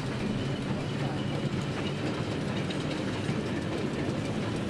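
Swiss narrow gauge BOB train hauled by two vintage locomotives, leaving a station toward Interlaken, gives a continuous steady rumble with faint wheel clatter, even and unbroken, with no voices.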